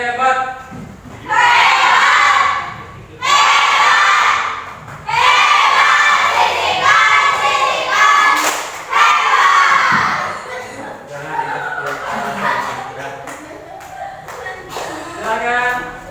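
A classroom of children shouting the rhythmic 'tepuk hebat' clapping cheer in unison, loud chanted bursts separated by short pauses, ending with quieter murmuring and an adult voice speaking.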